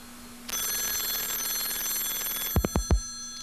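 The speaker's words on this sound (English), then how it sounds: "And your computer is ringing." A telephone line rings while a call is placed to a computer: a steady electronic ring tone sounds alone for about two seconds, followed by a few sharp clicks as the computer picks up.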